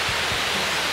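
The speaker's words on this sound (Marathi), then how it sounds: "हा पण खतरनाक वॉटरफॉल आहे" A tall straight waterfall in Meghalaya roars as a dense, steady wash of falling water, loud and constant with no voices over it.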